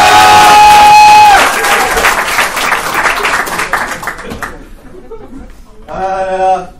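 A comedy-club audience bursts into loud applause and cheering, a dense wave of clapping that slowly thins out, with a fresh swell of applause and voices near the end.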